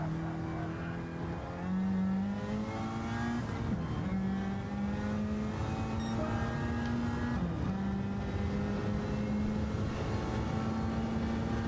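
In-car view of a race car in a stock GTO series lapping a winding road course: a loud, steady engine drone that rises and falls with gear shifts and revving throughout.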